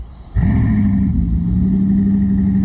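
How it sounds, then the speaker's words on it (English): A Bugatti Mistral engine in the Roblox game Driving Empire starts revving after a short quiet moment, then holds a loud, steady, buzzing engine note that rises slightly and stays level. "so I'm on the Bugatti Mistral right now, so here we go, the engine sound in"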